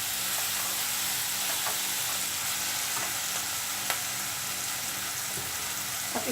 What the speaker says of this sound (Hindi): और इसको अच्छे से मसालों को मिलाएं। मसाले अच्छे से मिक्स हो रहे हैं।